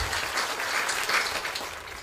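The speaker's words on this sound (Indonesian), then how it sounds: "Tepuk tangan buat Tuhan Yesus" Congregation clapping during a church sermon, a sustained wash of many hands at even strength, moderately loud, with no talking over it.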